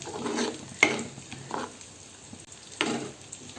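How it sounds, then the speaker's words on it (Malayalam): Kerala tomato curry with ground coconut is stirred in a pot with a spoon, giving soft scraping and clinking strokes in several bursts, fairly close and moderately quiet, with a faint bubbling simmer underneath. "ഇനി ഇതൊന്ന് മിക്സ് ചെയ്ത് കൊടുക്കാം"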